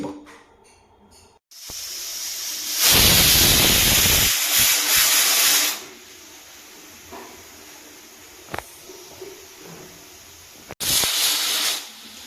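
A pressure cooker on a gas stove lets out two loud, long hissing steam whistles, the first lasting about three seconds and the second short burst coming after a quieter stretch of kitchen background.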